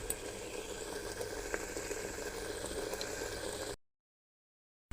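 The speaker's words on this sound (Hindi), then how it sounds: "अब मैं मसाला भूनूंगी। प्याज डाल दिया मैंने।" Soft continuous sizzle of onion and masala frying in a pan, a low steady crackle that runs for several seconds and then cuts to silence.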